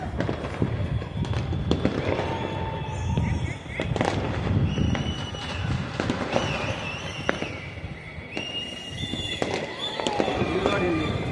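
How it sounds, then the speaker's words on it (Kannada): Fireworks crack and bang repeatedly at varying distances during night celebrations after an RCB cricket win, sharp explosions scattered throughout, while people talk loudly beneath the din. "ಎಲ್ಲೋಡಿದ್ರು ಪಟಾಕಿ ಕಾಣಿಸ್ತಾ ಇದೆ"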